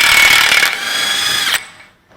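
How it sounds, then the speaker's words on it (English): Loud power tool, likely an impact gun, spinning off a 36 mm center axle nut on a Honda, a close steady whir for over a second that cuts off and fades into quiet. "First thing we're going to do is take off the center axle nut."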